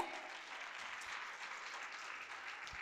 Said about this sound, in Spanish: Así que fuerte los aplausos, la siguiente